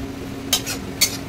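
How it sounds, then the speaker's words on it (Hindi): Finely chopped onions fry in hot oil with five-spice while a mustard sea-fish curry is being cooked, giving a low steady sizzle broken by two short scraping stir strokes of a spatula in the pan. "उसे ब्राउन होने तक मैं फ्राई करूँगा"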